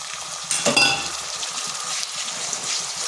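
Onion paste drops into a pan of softened onions frying in oil, a brief burst of louder sizzle and clatter settling into a steady hiss.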